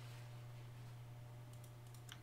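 Faint clicks from a computer keyboard and mouse, a few quick taps clustered near the end over a constant low electrical hum, distant and quiet with no talking.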